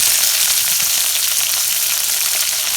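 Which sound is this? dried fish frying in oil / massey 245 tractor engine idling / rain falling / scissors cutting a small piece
dried fish frying in oil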